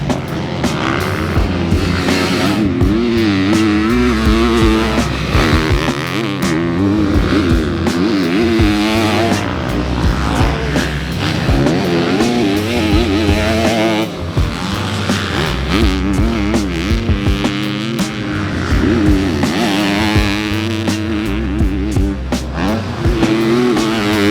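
A KTM 250SXF four-stroke motocross bike built for Pro National racing being ridden, its loud engine revving up and down continuously with rapid throttle changes, close by throughout.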